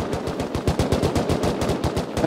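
Rapid automatic gunfire in a multiplayer shooter video game rattles out in a dense, steady stream of close, loud shots with no pause.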